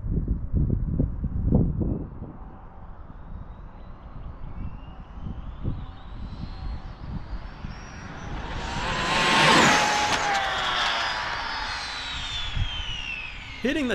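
An Arrma Limitless V2 RC car makes a high-speed run toward 200 km/h, its electric motor whine rising to a loud, near pass around the middle before fading into the distance, with wind noise and some talk early on.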